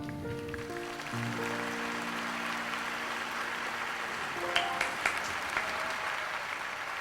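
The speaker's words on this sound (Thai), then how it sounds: "ขอเสียงปรบมือให้เบสอีกสักครั้งครับ" Studio audience on a Thai televised singing competition applauds a contestant, a dense steady wash of clapping that starts over a fading musical note and continues alone, with a few sharper claps standing out near the end.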